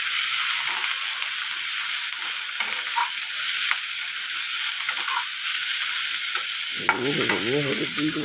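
Mashed-potato seasoning for Bengali alu chokha frying with turmeric in a pan, a continuous close sizzle punctuated by light clicks, then louder stirring and scraping toward the end.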